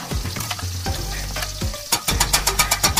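Spinach pilaf is stirred in a pot, with a spoon scraping and clattering through the rice and then a quick run of rhythmic knocks, loud and close over a low background hum.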